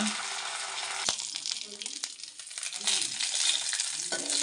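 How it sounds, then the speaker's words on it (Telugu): Curry leaf sprigs frying in a pan for a tribal village-style chutney make a loud, crackling sizzle that swells and fades. A sharp knock and some scraping come through, and a voice talks faintly underneath. "కరివేపాకు రెబ్బలు ఇప్పుడు వేపుతున్నాం. బాగా వేపాలి."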